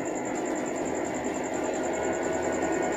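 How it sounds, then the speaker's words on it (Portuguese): São Paulo metro Line 4 Yellow train running, a steady close rumble of wheels and motors with a sustained high electric whine on top, continuous with no talking. "Aqui diz linha 4 amarela, metrô de São Paulo."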